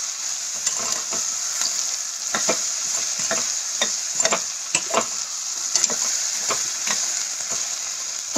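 Okra curry sautés in a pan with a steady bright sizzle, while a spoon stirs through it in repeated soft scraping strokes at an uneven rhythm, close and clear with no talking.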